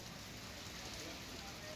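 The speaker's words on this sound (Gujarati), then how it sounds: "અમદાવાદના અનેક વિસ્તારો કે જ્યાં ન્યૂરાણી, ચાંદખેડા, બોપલ, શેલામાં વરસાદ વરસી રહ્યો છે।" Rain falls across Ahmedabad neighbourhoods, making a soft, even hiss of drops on surfaces that stays faint and constant, with a hint of voice beneath.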